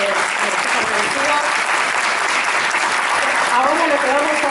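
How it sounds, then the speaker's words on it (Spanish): Steady, dense applause from a press-conference audience fills the room for several seconds at a constant loud level, with faint voices mixed underneath. "muchas gracias a todos, pedimos un fuerte aplauso"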